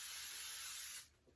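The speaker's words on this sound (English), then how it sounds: "I'm gonna take some hairspray" A single steady burst of hairspray onto a half-wig quick weave, a close, soft hiss lasting about a second before it cuts off.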